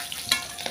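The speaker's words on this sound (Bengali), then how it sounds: "পুঁটি মাছ লাল লাল করে সুন্দর করে ভাজা হয়ে গেছে" Puti fish frying in hot oil and being stirred in the pan: a brief, close sizzle broken by a few sharp scraping clicks of the spatula.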